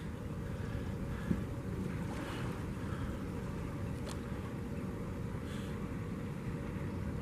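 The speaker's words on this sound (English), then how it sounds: "And another ship exiting the harbour." A ship leaving Richards Bay harbour behind Pelican Island, heard as a steady low engine rumble across the water with wind buffeting the microphone and a faint wash of waves throughout.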